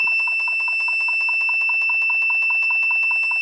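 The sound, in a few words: electronic buzzer sounding in a step-up voltage circuit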